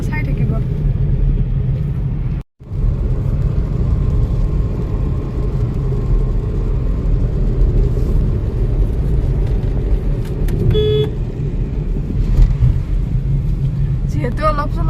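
Inside a moving car on a drizzly day, a steady low engine and road rumble fills the cabin throughout, with a few faint beeps and clicks over it.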